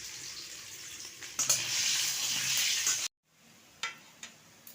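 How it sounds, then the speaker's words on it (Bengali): Potatoes fried in hot oil, heard as a steady close sizzle that swells for a couple of seconds, cuts off abruptly, then returns faintly with a few brief crackles. "আমার তেলটা গরম হয়ে গেছে, এবার আমি আলুগুলো ভেজে নেব"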